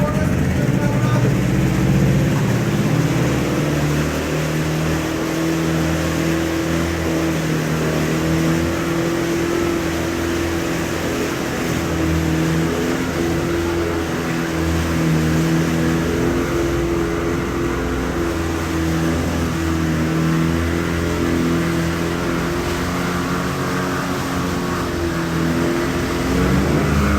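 A 30HP outboard boat motor idling steadily after its fuel connector is pulled, a loud, constant droning hum that holds throughout, with voices talking faintly underneath.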